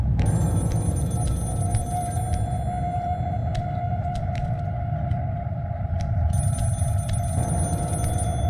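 A telephone rings steadily and fairly loudly through a constant low rumble. A warbling electronic tone carries on throughout, with brief clicks scattered over it.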